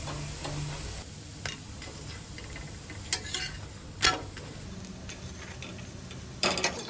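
Thalipeeth flatbread roasting in a pan over a gas flame on medium to low heat. A soft, steady sizzle runs under a few sharp clicks and taps from a utensil, and nobody speaks.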